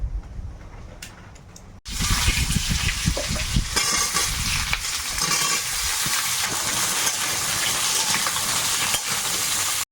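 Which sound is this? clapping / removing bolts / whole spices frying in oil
whole spices frying in oil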